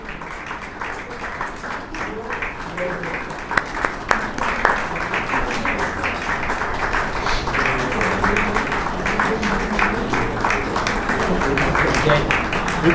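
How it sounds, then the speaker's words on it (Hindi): An audience at a ceremony honouring a professor claps steadily to welcome guests onto the stage, a dense, sustained applause that grows slightly louder and continues throughout. "विदुषी माँ डॉक्टर मुन्नी पुष्पा जैन जी को बिल्कुल तालियों के साथ स्वागत करते हुए मंच पर लेकर आएँ।"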